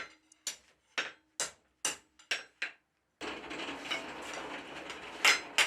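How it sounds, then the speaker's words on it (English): A blacksmith uses a lighter hammer on the end of a small hot bar, giving seven sharp ringing strikes at an uneven pace, close and clear, followed by a long burst of roaring, hissing noise. "Now that I switched to a lighter hammer,"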